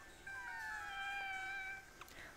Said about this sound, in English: Oh, that cat looking for his mom or what?